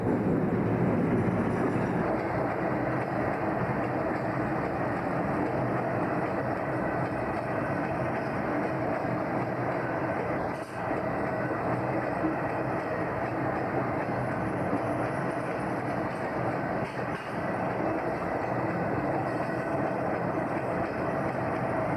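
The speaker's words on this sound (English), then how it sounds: "another train of coal empties from Scunthorpe's coal handling plant passes through" A long freight train of empty coal wagons from Scunthorpe's coal handling plant in North Lincolnshire rumbles past steadily, a continuous heavy roar with faint clattering of wheels, unbroken for the whole stretch.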